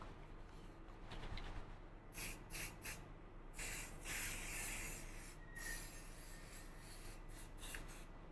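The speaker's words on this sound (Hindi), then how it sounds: "वही सेटिंग स्प्रे लगाओ उसके बाद लगाओ" Makeup setting spray is misted onto a face in a series of short, soft hissing bursts, close by and quiet, with small rubbing noises between them.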